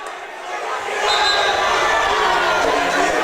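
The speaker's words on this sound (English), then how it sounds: "That one has energized this crowd a little bit now." A high school boys basketball crowd in a gym roars and cheers after a blocked shot, the noise swelling within the first second and then holding loud and steady, with general crowd chatter mixed in.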